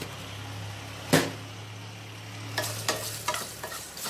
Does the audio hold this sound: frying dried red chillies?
yes